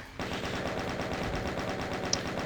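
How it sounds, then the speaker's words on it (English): The chain gun in the DOOM video game fires a steady stream of rapid shots, loud and unbroken, with a faint pickup chime near the end. "Switch over to your chain gun"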